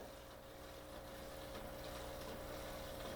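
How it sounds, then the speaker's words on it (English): A low, steady aquarium side filter pump hum runs continuously with a faint watery hiss, quiet and unchanging throughout. "We want to help prime this pump."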